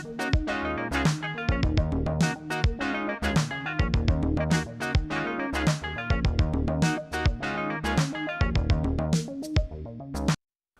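A Korg Wavestate synth patch plays a song intro, with dense, punchy rhythmic synth hits and percussive attacks in a busy, driving groove that cuts off abruptly at the end.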